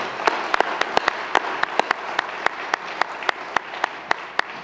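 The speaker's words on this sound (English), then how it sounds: "I'd like to ask for a round of applause for them" A small audience gives a round of applause for 9/11 first responders at an emergency-preparedness event, sparse, distinct hand claps at an irregular pace, fairly close and clear over a quiet room.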